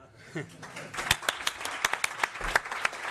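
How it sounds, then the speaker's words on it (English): Scattered, uneven hand claps from a small group of reporters at a manager's press conference on his Manchester City exit, sharp separate claps building over a few seconds with faint background talk. "Now you can clapping to me."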